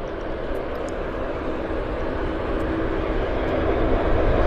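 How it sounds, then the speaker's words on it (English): A Convair airliner powered by Allison turboprop engines running at Vancouver Airport, a steady broadband engine roar that builds gradually louder across the clip, with no one talking. "you're starting to get the sound of the Allison engines"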